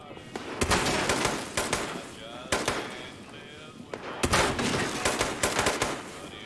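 Rapid automatic gunfire in Fallout 76, several loud bursts of overlapping shots separated by short gaps, close and harsh.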